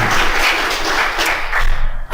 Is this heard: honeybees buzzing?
no